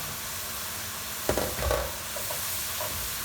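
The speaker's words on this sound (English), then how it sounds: "I'm going to saute this on high heat again" Beef stroganoff sautés over high heat in a pan, a steady close sizzle broken by a brief stirring scrape and clatter near the middle, no talk.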